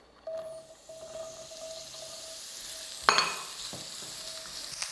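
Mushrooms hit a hot pan over medium heat and sizzle steadily, with a sharp burst of frying as they drop in, stirring scrapes and a few clicks of the pan, close up with no talking.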